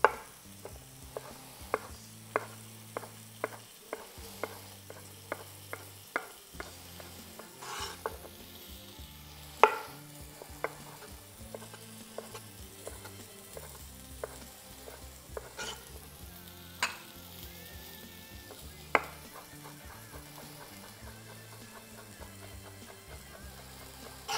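Chopped onions fry in a pan as they are stirred around and begin to brown and stick, giving a steady low sizzle broken by frequent sharp scraping and clacking of the utensil against the pan.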